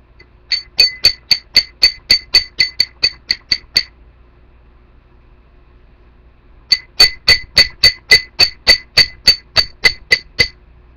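A glass tumbler strikes a nail in a series of sharp, evenly spaced knocks, about fourteen quick hits, a pause of a few seconds, then another run of roughly fourteen, close and loud with no talking.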